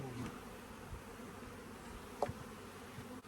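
Honey bees humming faintly around a UK hive during a May colony move, a low steady drone with a brief knock partway through.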